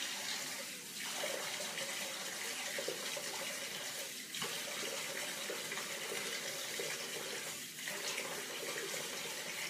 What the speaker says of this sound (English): I had to dip down here and just rinse my face off real quick.